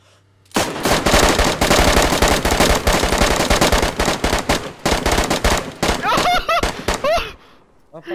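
Sustained automatic gunfire in the survival game DayZ fires as one long rapid burst, loud and close, then breaks into shorter bursts as excited voices shout over it.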